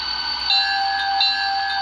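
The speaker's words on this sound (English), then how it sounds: "Bell." A model train bell on an O scale dead-rail locomotive under Railpro control rings in quick repeated metallic dings, steady and moderately loud, with no voices.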